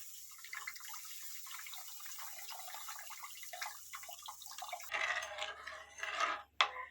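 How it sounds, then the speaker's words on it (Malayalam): Squeezed tamarind water is poured into a pan for a homemade Kerala fish curry, giving a steady close trickling splash that turns into a few brighter splashes and drips near the end, with no voices. "പുളി പിഴിഞ്ഞ് ഒഴിക്കുകയാണ് കേട്ടോ"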